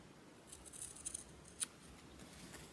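Scissors snipping fabric while trimming a cross stitch pillow, faint small clicks and a sharper cut near the middle, quiet and close with no talking.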